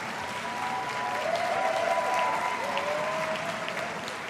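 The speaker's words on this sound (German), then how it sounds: "Noch einmal Applaus." Audience applause at a DreamHack esports event, a dense, sustained clapping crowd filling the hall at steady loudness, with faint voices underneath.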